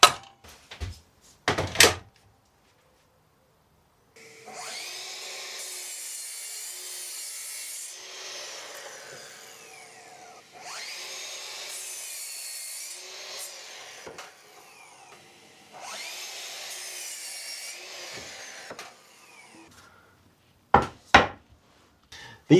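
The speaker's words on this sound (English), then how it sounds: "I have some treated timber I'm going to cut down for it." Treated timber boards are cut by hand, with three long bursts of rhythmic rasping saw strokes, bracketed by a few sharp knocks before and after, and no talking.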